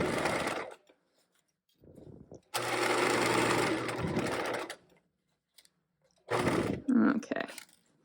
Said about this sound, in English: I'm going to stitch and back stitch, stopping again, being sure to stop where our marked seam line ends at those corners